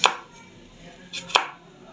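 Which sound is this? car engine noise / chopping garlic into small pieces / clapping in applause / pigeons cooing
chopping garlic into small pieces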